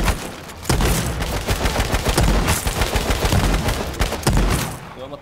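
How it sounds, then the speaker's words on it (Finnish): Rapid bursts of automatic gunfire in the video game H1Z1, loud and close, a dense crackling volley of repeated shots that keeps up almost without pause, with no talking. "Jostain vasemmalta ammutaan."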